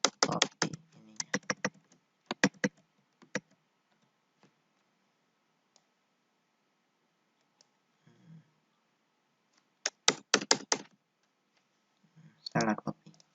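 Bursts of rapid computer keyboard typing and clicks while text is copied and pasted, in short clusters separated by long quiet gaps, close and crisp.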